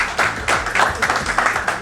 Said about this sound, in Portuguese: com uma forte salva de palmas